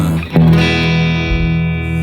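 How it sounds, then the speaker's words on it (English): An electric guitar chord played through an Orange Vintage Sustain compressor pedal rings out after a short pick attack, sustaining evenly with a smooth, squeezed tone and slow fade. "That is a good compressor, good sounding compressor."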